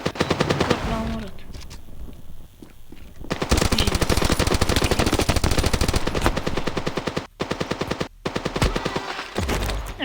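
Rapid bursts of video-game gunfire crackle in dense repeated volleys, loud and close, with a couple of brief pauses and some quieter clicks early on.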